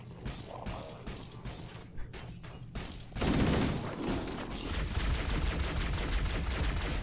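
Gunfire in Halo: Combat Evolved Anniversary, a dense burst of rapid shots that swells to a loud continuous barrage halfway through, with mechanical clatter mixed in.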